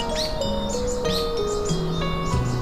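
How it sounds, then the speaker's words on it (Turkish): A nightingale sings nearby in quick varied phrases of bright chirps and sweeping whistles, with a steady musical backing tone underneath. "Bülbül, çok güzel öter şarkıcı kuştur."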